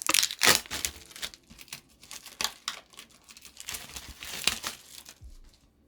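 Plastic wrapping around sheets of paper crinkles and crackles in quick irregular bursts, close and fairly loud, with brief quiet gaps between handling sounds.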